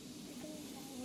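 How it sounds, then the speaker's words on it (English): Bug spray hisses from an aerosol can outdoors by a creek in Gainesville, a steady continuous spray lasting about a second at moderate, close range. "Getting the bug spray"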